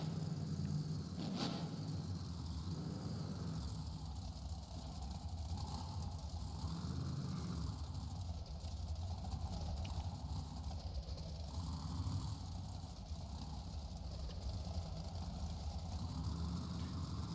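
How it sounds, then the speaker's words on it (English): Trucks sit idling at the start line of a Beam Jam championship round in Inglewood, California, giving a low, steady engine rumble at moderate distance with no voices over it. "Trucks are ready, waiting for green."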